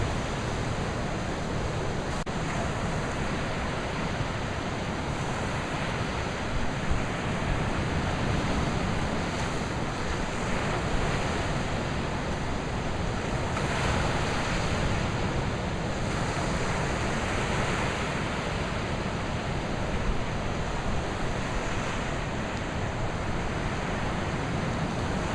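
Ocean waves wash steadily at Bodega Bay, California, a continuous broadband surf roar with gentle swells and some wind buffeting the microphone, no voices.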